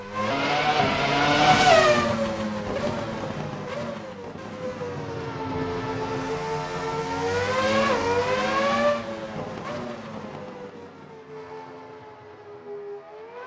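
A 1997 Formula 1 car engine in the racing game Assetto Corsa roars and revs continuously, pitch rising and falling through gear shifts, loud and close with no talking.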